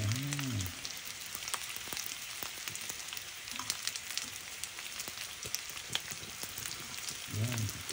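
Danggit fish fry in oil with a steady crackling sizzle and scattered sharp pops, fairly quiet and close. Brief voices are heard at the start and end.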